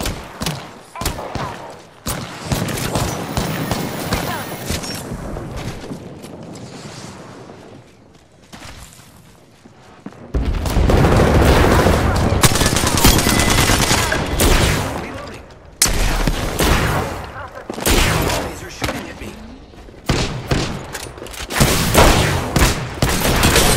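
The L-Star energy light machine gun fires in the video game Apex Legends, loud sustained bursts of rapid fire broken by short pauses, with occasional game voices.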